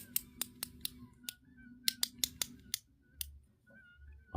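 Sharp detent clicks from the sections of a Machinery 3-Level Slider by WOW Studio, a dozen crisp close ticks in uneven groups, some spaced, some in quick pairs, with a quiet hum between.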